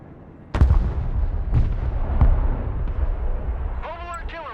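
Heavy artillery pieces fire in the Broken Arrow war game set in the Balkans: a booming shot, then two more heavy blasts with lingering rumble, while game voice chatter comes in near the end.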